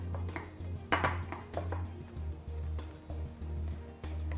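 A spoon stirs mashed kiwi with milk and honey in a bowl, giving repeated light clinks and scrapes in an irregular rhythm over a steady low hum, close and moderately quiet.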